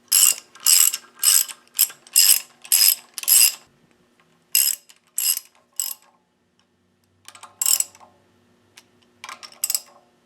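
Ratchet wrench cinching Subaru EJ head bolts down onto the engine block: quick bursts of crisp clicking, close and loud, in repeated short strokes separated by brief pauses.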